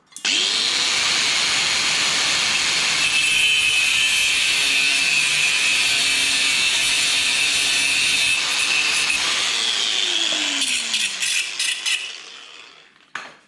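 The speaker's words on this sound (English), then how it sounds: "So I'll go get the grinder set up" An angle grinder cuts a threaded bolt on a DR 650 footpeg, a loud continuous high whine held for about ten seconds before spinning down, with clatter at the end.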